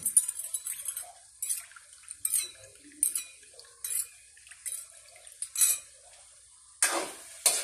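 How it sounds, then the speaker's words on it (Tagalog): A spoon stirs sweet and sour escabeche sauce for tilapia in a pan, with a series of short, sharp metallic scrapes and clinks against the pan in an irregular rhythm, close and clear over near silence. "hinahalo ko po ito mga kaguro dahil ilalagay po natin doon"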